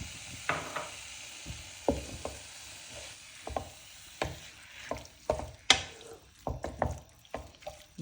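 Chicken keema sizzles and fries in a cup of oil while being stirred, the spoon scraping in uneven bursts over a soft steady crackle, close and quiet without talk.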